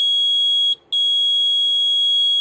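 A motion-sensor buzzer on an electronics project gives a loud, steady high-pitched electronic tone that breaks off briefly once and then resumes, sounding alone.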